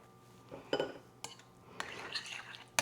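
A utensil scrapes and clinks against a casserole dish while Cheez Whiz is mixed in, giving a few soft, close taps and stirring scrapes at low volume.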